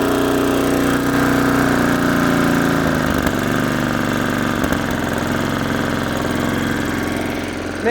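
Craftsman snow blower with a 5 hp Tecumseh Snow King engine idling after a carburetor rebuild, a steady, loud, close mechanical chug with a faint knock throughout and no talk.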